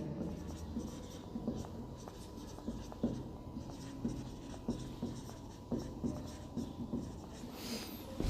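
Chalk or marker writing on a board during a chemistry lecture on atomic structure, steady scratchy strokes with regular taps and squeaks, fairly close and continuous throughout with no talking.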